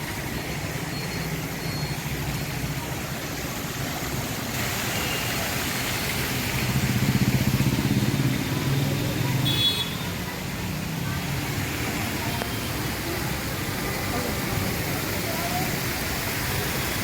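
A water fountain at the Swaminarayan temple Gurukul in Surat splashes in a steady, unbroken rush for the whole stretch, moderately loud and even, with a slight swell near the middle.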